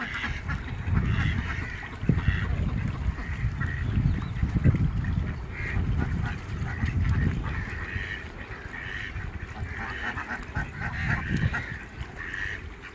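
A flock of ducks at a meat-breed livestock farm quacks and honks continuously, with many overlapping calls, loud and close, repeating in bursts over a steady farmyard background.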